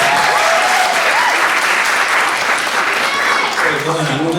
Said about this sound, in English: Let's give her another hand.